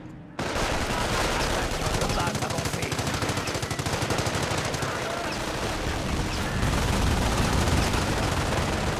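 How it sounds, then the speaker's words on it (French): An MG42 machine gun in Company of Heroes firing long continuous rapid bursts with dense, loud rattling and a battle din behind it. A voice talks faintly underneath. "ma MG42 tire sur ça"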